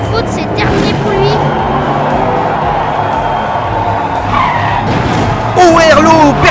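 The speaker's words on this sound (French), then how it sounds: "drift non maîtrisé de Scotty qui se met à la faute" Diecast toy race car on a miniature track sliding into an uncontrolled drift, tire skid and scrape sounds under excited French race commentary, with a sharper squeal near the end.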